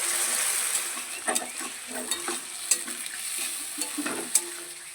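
Potatoes frying in oil in a pan with spices being added, a steady close sizzle broken by scraping stirs and light clinks of a spatula against the pan.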